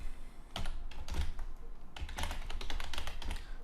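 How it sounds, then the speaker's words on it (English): Close, crisp clatter of fingers typing code on a computer keyboard, in two quick bursts of keystrokes separated by a short pause. "So I go back to my PHP file, and I type in"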